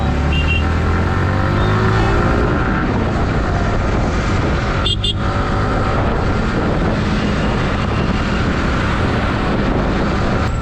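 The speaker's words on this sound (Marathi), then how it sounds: "एवढं सकाळी सकाळी एवढं ट्रॅफिक सगळं ट्रक आणि बसेस आहेत" Constant roar of busy morning road traffic nearby, trucks and buses among it, engines and tyres blending into a dense wash, with a brief sharper passing sound midway.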